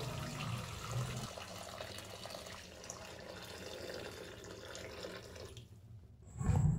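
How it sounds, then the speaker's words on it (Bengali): Water pours into a pan of cooked-down masala for rui fish curry, making a soft, steady splashing that swells into a louder gush at the end. "দিয়ে দিলাম পরিমাণ মতো জল"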